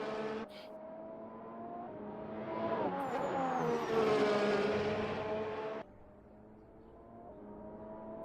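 Race car engine in Assetto Corsa during a 2019 Italian Grand Prix at Monza, a loud, close engine note climbing in pitch under acceleration, then dropping abruptly to a lower drone as the car nears the Ascari chicane.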